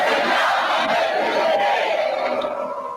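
A large crowd at a Guinean independence celebration erupts in loud, sustained cheering and shouting, the roar filling the whole clip without letup before easing slightly at the end.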